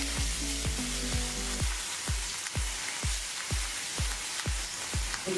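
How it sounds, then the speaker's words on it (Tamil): Marinated chicken frying in hot oil in a kadai for a traditional Thalassery chicken biryani, a steady close sizzle and crackle with regular popping spits throughout, no voices. "இப்போ மேக்னேஷன் பண்ண சிக்கன் நமக்கு ஃப்ரை பண்ண அப்படின்னா கடாயில் எண்ணெய் சூடா இருக்கு"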